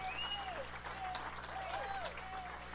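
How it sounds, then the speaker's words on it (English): An audience applauds State Representative Avery Bourne at a political event, a steady wash of clapping from a crowd throughout, with a speaker's voice over it. "Let's give her another round of applause."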